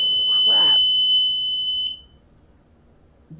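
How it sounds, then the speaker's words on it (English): A smoke detector shrills with a steady high-pitched tone for about two seconds during a game session, then cuts off; a short voice exclamation breaks in near the start. "I guess we got a fire alarm going on over there with Seeds right now."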